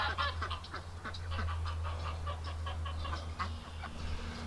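Upset geese honking and calling in a cluster of repeated harsh cries close by on a farm with ducks, over a steady low background hum, with no talk.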